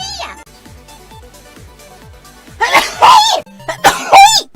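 A dragon VTuber sneezes on stream, a burst of two or three loud, harsh sneeze-like blasts after a quieter stretch of faint ticking sounds.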